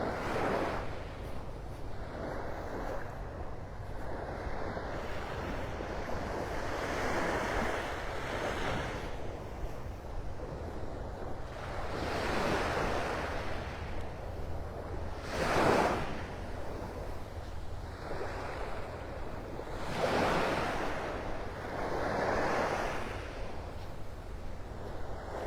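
Ocean waves wash onto the beach at Clam Pass in North Naples, Florida: a continuous broad surf roar that swells and recedes in slow surges every few seconds, steady and fairly close, with some wind noise on the microphone.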